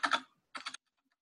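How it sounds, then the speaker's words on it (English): Two short bursts of clicks from a computer keyboard, a quick run of typed digits and then the enter key pressed, close and crisp against silence. "After typing 30, I am typing the enter key,"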